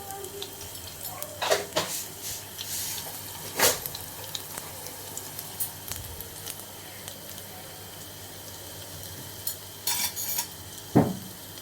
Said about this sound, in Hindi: अब इसको बहुत अच्छे से हिलाऊंगी, मतलब ये तेल भी गर्म हो जाएगा और लहसुन भी बिल्कुल जल जाएगा।